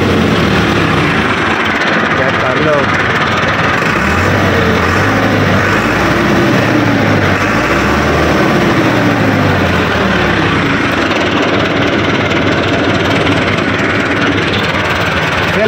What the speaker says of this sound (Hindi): फिलहाल आवाज तकरीबन दूसरे ट्रैक्टर नालों भी बेहतर है ना, हौली आवाज है।